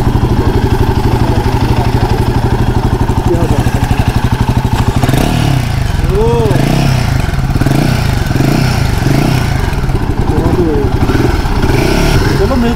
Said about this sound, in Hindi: साउंड देखिए भाई